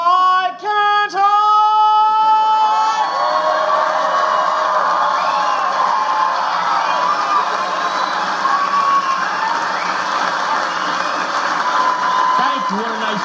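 A comedy club audience bursts into loud cheering, whoops and sustained applause after a stand-up line, a big crowd roar that holds steady for several seconds before a voice starts speaking again.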